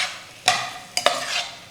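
Washed, drained rice is gently stirred into cooking vegetables in a pot, a few soft scraping and rustling strokes with light sizzling between them, close and quiet with no talk.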